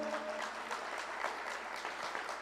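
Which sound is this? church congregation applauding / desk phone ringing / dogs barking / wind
church congregation applauding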